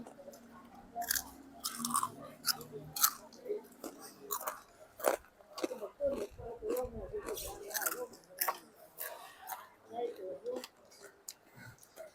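Pork eaten with boat noodle broth from a large bowl in Yasothon, Thailand, giving close, irregular chewing and crunching with soft clicks, while someone talks intermittently over it.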